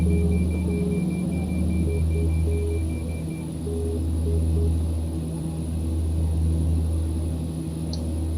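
Twin turboprop engines of a Saab 340 at climb power in the X-Plane 11 flight simulator drone steadily with a deep rumbling roar and layered tonal hums, continuous and loud throughout.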